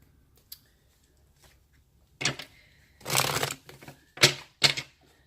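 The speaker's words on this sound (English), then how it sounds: "shuffle until I feel like it's good enough" Several short bursts of tarot cards being shuffled, a riffle-like flutter repeated three or four times after a quiet start, close and fairly loud.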